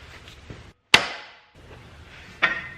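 Two sharp hammer smacks on a C4 Corvette front suspension ball joint, a loud metallic strike near the start followed by a ringing decay, then a second slightly softer blow, with quiet shop noise between.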